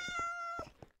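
A cat in Minecraft gives a clear tonal meow, followed by a few soft taps and clicks from the game.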